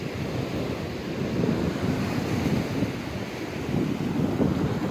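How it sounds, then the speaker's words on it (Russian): Winter sea waves break and wash along Massandra beach in Yalta, Crimea, in December, a steady near roar of surf with wind buffeting the microphone and no voices. "Массандровский пляж, декабрь месяц 2020-го."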